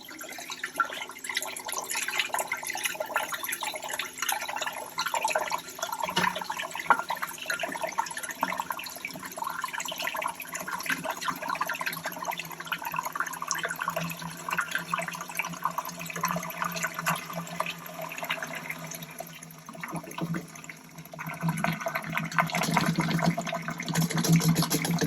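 Mixer running at very low speed agitates water in a feeder tank as sodium hydroxide (lye) is slowly poured in, a steady, loud churning and splashing wash that swells in the final seconds.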